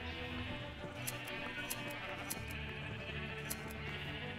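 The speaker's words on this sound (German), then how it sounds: "dann einmal kurz zu den Schafen" Sheep in Minecraft bleat repeatedly in short calls over a steady game ambience, several overlapping animals close by.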